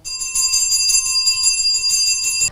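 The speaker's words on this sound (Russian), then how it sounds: "Сейчас звучит последний прощальный школьный звонок." An electric school bell rings for the traditional last bell of the school year, a loud continuous metallic ringing with a rapid striker rattle that keeps going at an even level.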